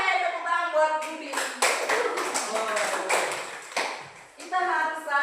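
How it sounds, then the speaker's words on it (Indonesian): A class claps for a student, a short burst of scattered hand clapping heard close up, with a teacher's voice talking over it. "Tepuk tangan buat Budi."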